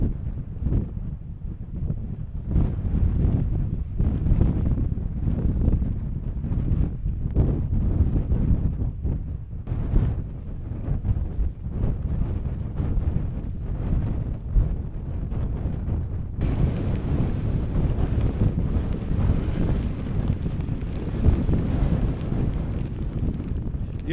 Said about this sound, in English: let's get out off this fell out this horrendous wind